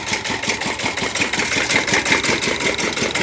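Engine idling steadily with a fast, even mechanical pulse, close and fairly loud, with no talk over it.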